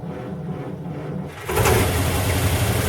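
A 1940 Buick straight-eight engine cranking on its first start in 30 years: a rhythmic starter churn that switches abruptly to a loud, broadband roar of catching or hard cranking partway through, close and continuous.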